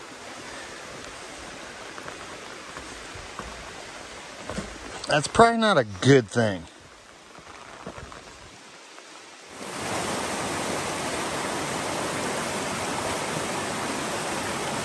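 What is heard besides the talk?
rain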